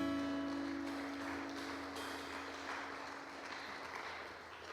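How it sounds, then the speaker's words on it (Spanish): A church congregation applauds during a worship service, a dense, steady wash of clapping with a sustained musical tone underneath that slowly eases off toward the end. "Dale un aplauso al Señor."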